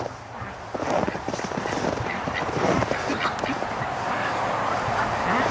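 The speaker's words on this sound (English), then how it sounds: "Oh, we got another limping duck." A limping female duck quacks repeatedly, a run of close, loud honking calls over a busy flock background with other fowl noise.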